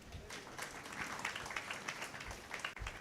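Audience at a live Telugu Christian church service breaks into soft, scattered clapping that sounds fairly distant and low in level, lasting a few seconds.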